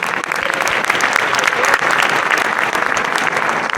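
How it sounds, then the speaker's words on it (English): Dense applause fills a school winter band concert audience honouring recognised students, sustained and close with many hands clapping at once and no break. "So once again, give them a round of applause."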